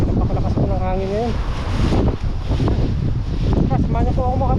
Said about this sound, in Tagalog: At napakalakas po ng hangin ngayon.